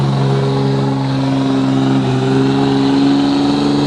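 A diesel truck engine revs hard and steady at a truck pull, loud and close, with a strong droning tone that rises slightly as it works down the track.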